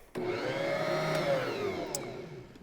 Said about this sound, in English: we're going to mix this with our dough hook on our Bosch mixer for 1 minute